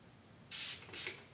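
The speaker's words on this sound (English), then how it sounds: "I'm going to actually take my setting spray and I'm going to spray my brush." Two short hissing bursts of makeup setting spray misted onto a flat brush, close and fairly loud, the first longer, the second following just after in a quiet room.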